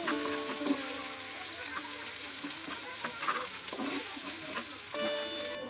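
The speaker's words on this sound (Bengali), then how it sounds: "পেঁয়াজ রসুনগুলো বাদামি রং ধারণ না করা পর্যন্ত আমি এভাবে নাড়াচাড়া করে নিচ্ছি।" Chopped onion and garlic sizzle steadily on a flat griddle as they are stirred and fried, with soft scraping over a quiet, continuous crackle.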